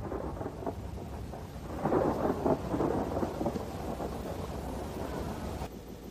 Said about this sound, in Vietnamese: Mưa to gió lớn như vậy chắc là đi không được đâu.